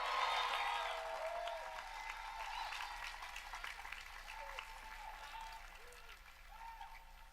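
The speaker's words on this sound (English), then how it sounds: "everybody cheer on women's tennis for the MAC championships this weekend" An awards-night audience applauds and cheers for a women's tennis team ahead of their MAC championships, a broad wash of clapping that starts strongest and gradually tapers, with scattered voices mixed in.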